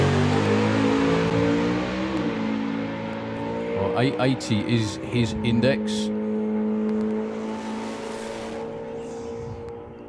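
A drag racing car at Santa Pod in the UK, at an FIA/FIM drag racing event, revs with a loud harmonic engine drone and a few sharp bursts partway through, while an announcer talks over it.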